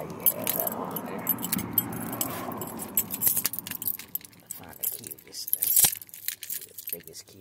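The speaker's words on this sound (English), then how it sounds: "here's the key to this thing." Keys jangling on a ring for a five-speed Chevy Colorado, a close metallic rattle and clinking that comes in bursts, with talk over parts of it and a sharp clink near the end.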